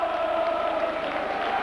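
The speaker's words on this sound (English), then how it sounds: "A terrific round of applause for both sides as they troop off the pitch" Crowd at a rugby league Challenge Cup sixth-round tie, St Helens v Doncaster, giving steady, sustained applause as both teams leave the pitch, a broad continuous wash of clapping and crowd noise throughout.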